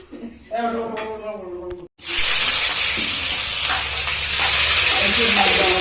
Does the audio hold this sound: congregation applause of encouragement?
no